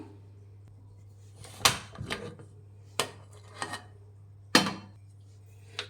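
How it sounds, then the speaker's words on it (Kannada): A metal pressure cooker lid is handled and opened after cooking a mutton boti gojju. Several sharp, separate metallic clanks and clatters come close by over a faint steady hum, with quiet pauses between the knocks. "ಕುಕ್ಕರ್ ಕೂಗಿ ಆರಿ ತಣ್ಣಗಾಗಿದೆ. ಲಿಡ್ ಓಪನ್ ಮಾಡೋಣ."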